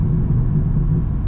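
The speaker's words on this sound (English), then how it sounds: "Downpipes themselves, they don't sound bad, and they sound loud from the outside." Exhaust of a BMW G80 M3 fitted with catless downpipes, a loud, deep, continuous rumble heard up close for just over a second.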